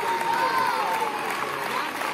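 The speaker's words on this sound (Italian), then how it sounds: "Un applauso, altro che." An audience at a charity football match fundraiser for the Italian leukemia association bursts into brief applause, a short, full spell of clapping with a voice carrying over it.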